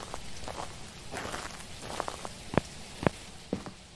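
Light rain patters in the horror video game Welcome to the Game 2, a soft steady hiss with scattered sharper drops and a few clicks, faint and without voices.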